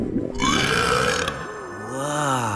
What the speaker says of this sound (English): I drink in the beauty, and it makes me burp.